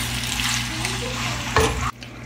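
Chicken pieces frying in melted butter for a chicken and vegetable stir-fry, a steady close sizzle with stirring scrapes and a brief louder burst near the end.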